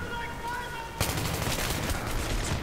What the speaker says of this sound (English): I'm using an M27 here with an extended mag, a red dot sight